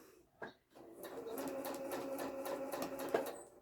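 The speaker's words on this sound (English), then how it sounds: "I am sewing the black sashing strips down the side of the quilt now" A sewing machine stitches black sashing strips down the side of a quilt, a steady, fairly quiet mechanical whir after a brief click, running continuously for about three seconds.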